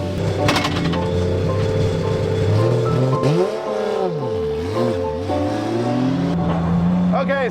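Toyota Supra drift car with its engine revving hard and its tyres spinning, a loud close engine note that rises and falls continuously, with talk over it.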